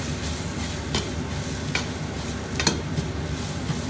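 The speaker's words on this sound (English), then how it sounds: "That paste again I'm adding it, and I'm gonna mix it." Paste being stirred and mixed into a pot of biryani: a spoon scrapes and clacks against the pot in scattered sharp strokes over a constant low sizzle, with no voices.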